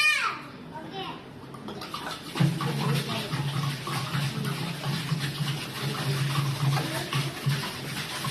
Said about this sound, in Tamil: கேன் தண்ணி தான் இப்போ போட போறேன்